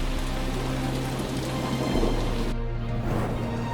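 Heavy monsoon downpour, a dense, steady roar of rain falling without pause, close and loud throughout.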